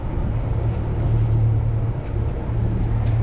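A sailboat's inboard engine runs in reverse at about 2,000 revs while anchoring, a steady, loud low drone with a constant hum and no break, heard close and alone.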